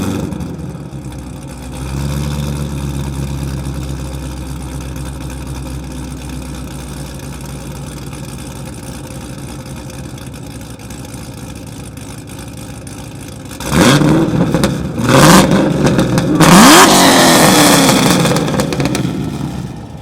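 A modified 690 hp Chevrolet Camaro ZL1 V8 idles with a steady, deep rumble close by, then snaps into several loud, sharp revs that climb and fall back.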